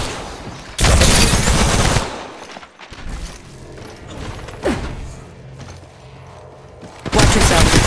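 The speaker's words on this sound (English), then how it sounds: "Opening fire." Gunfire in the Apex Legends Mobile video game, two dense loud bursts of rapid automatic shots separated by quieter mechanical clicks and in-game voice lines.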